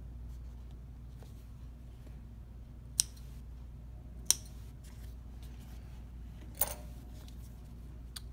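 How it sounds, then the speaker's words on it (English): Scissors snip thread on leather stitched with a sewn flame design. Three sharp, quiet snips sit widely spaced in an otherwise hushed room. "Do a little thread snipping here."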